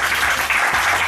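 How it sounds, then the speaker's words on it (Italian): Steady audience applause at an Italian stage show, dense and continuous clapping filling the whole moment without a break. "grazie, un applauso, grazie."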